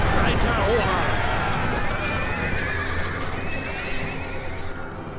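Horses neigh loudly and gallop with rapid hoofbeats in the battle strategy video game Battle for Middle-earth, the whinny up front and galloping continuing beneath, with voices calling out over it.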